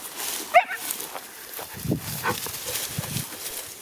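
Hunting dogs on a hare chase give a few scattered barks and yelps, some sharp and some softer and farther off, over an outdoor background.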